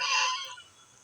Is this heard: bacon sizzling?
no